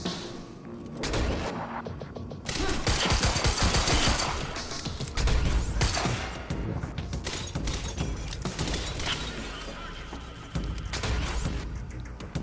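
Minigun fire in the video game Quantum Break: dense, continuous automatic gunfire mixed with shattering debris and booms, loud from start to finish with no pauses.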